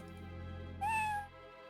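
A single clear, high cartoon-like meow from a cat in the Léa Passion video game rings out for about half a second over steady game background music.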